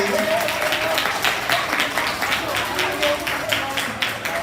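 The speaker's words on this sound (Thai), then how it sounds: "น้องอนุบาลขอเสียงปรบมือน้องอนุบาลอยู่ไหนครับ" At a Thai school-for-the-blind alumni gathering, a crowd claps for the kindergarten children, a busy, continuous patter of many hands with a voice running over it.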